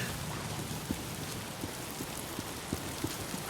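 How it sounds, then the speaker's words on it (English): Steady rain in a video game, a dense continuous hiss with scattered soft drop-like taps, even in level and fairly close throughout. "If it's not the freaks, it's the goddamn rain."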